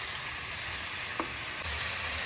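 Tomato and chicken fry in a pan for a chicken kosha, a constant close hissing sizzle with a faint scrape of stirring and no voices.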